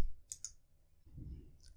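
A computer mouse is clicked while working in the Eclipse IDE, a couple of quick, sharp, close clicks followed by another faint click against a quiet background.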